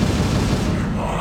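An explosion trap goes off in the StarCraft video game, a loud broadband blast that fills the sound and then tails off, with no talk over it.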